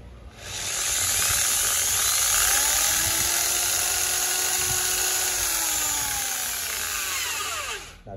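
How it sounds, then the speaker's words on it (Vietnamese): A Makita electric drill running at speed setting 3, spinning up quickly into a loud, steady high-pitched whine that holds for several seconds before winding down, with no talking. "Con này là con khoan nhớ đấy nhá."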